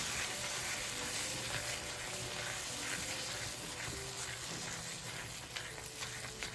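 Semolina, dry fruits, milk powder and ghee are stirred in a pan, giving a soft continuous sizzle with faint scraping. The sound is quiet and steady throughout, with no voices.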